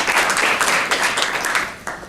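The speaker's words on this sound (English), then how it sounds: "Let's give Brian a round of applause." Continuous audience applause from a group in a workshop room, steady dense clapping throughout with no voices over it.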